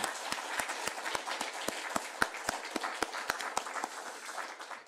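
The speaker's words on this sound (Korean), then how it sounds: "우리 같이 박수로 하나님께 영광" Congregation clapping together in a church during a Sunday Easter worship service, a steady rhythmic beat of many hands in unison with a dense crowd wash beneath, fairly close and sustained throughout without speech.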